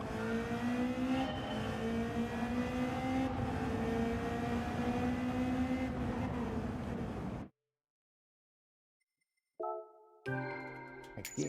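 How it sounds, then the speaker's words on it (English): Race car engine in Gran Turismo 7 on a multiclass Gr.1/Gr.3 race, a loud steady revving drone for several seconds that cuts to silence, then short bursts of electronic game tones. "So I've boosted the engine noise. I've also boosted the gear change."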